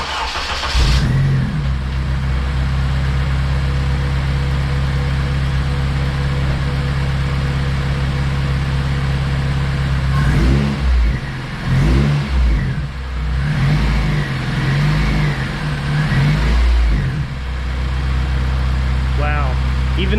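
A car engine with an added boost upgrade cranks and fires up, then settles into a loud, close idle with several sharp revs blipping through the middle and end.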